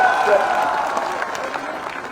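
A crowd of children at a Jaipur school event clapping in welcome, a dense wash of applause that starts strong and slowly thins out over about two seconds.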